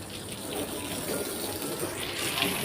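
Water sprays steadily from a hose while a car is washed in Qatar, a constant close hiss and gush of water with no pauses, fairly loud throughout.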